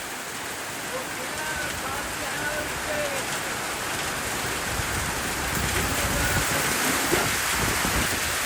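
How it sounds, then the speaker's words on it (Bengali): Heavy rain with wind during a storm, a dense, steady roar of drops beating on surfaces that holds evenly throughout, with a voice faintly present in the mix. "এখানে ঝড় হচ্ছে"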